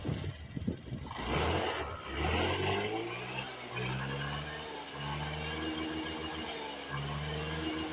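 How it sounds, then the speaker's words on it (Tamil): A Honda Dio BS6 scooter, faulty and blowing white smoke, is started and left running: a close, steady mid-pitched engine drone with a slight rise as it catches, continuing evenly. "அப்போ என்னன்னு சொல்லிட்டு செக் பண்ணுறதுக்கு வண்டியை ஸ்டார்ட் பண்ணி பார்த்தோம்."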